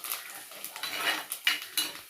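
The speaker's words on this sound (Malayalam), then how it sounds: "നമുക്കൊന്ന് ഇളക്കി കൊടുക്കാം." A spoon stirs fish head curry in a pot, giving a series of close, rhythmic metallic scrapes and clinks against the pot, with no voices.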